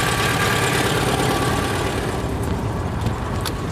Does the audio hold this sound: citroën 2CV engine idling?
yes